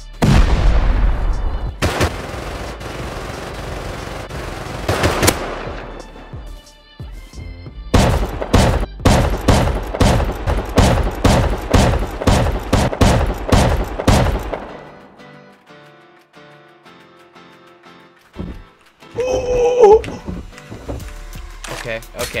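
Explosive ammo gunfire during a raid in the survival game Rust: bursts of loud, rapid cracking shots in quick rhythmic runs, with a long volley in the middle, then quieter gaps and a few later clattering sounds.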